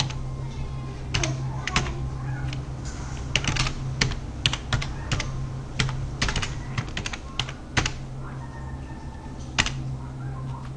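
Computer keyboard keys click in irregular bursts while an IP address is typed into Minecraft, close and crisp over a faint steady hum, with short pauses between runs of keystrokes.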